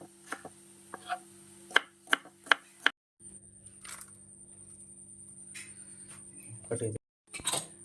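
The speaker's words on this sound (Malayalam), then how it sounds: "ഇപ്പം ചെറുള്ളി നമുക്ക് ചെറുതായിട്ട് ഇങ്ങനെ കട്ട് ചെയ്തെടുക്കാം." A knife chops shallots on a cutting board, several sharp separate knocks in an irregular rhythm, close and fairly loud, for a Kerala-style mappas; a low steady hum sits underneath and a few softer taps follow later.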